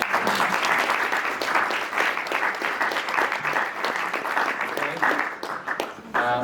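An audience at an honored alumni lecture applauds the honoree's family with dense, sustained clapping that holds steady throughout and tapers slightly near the end.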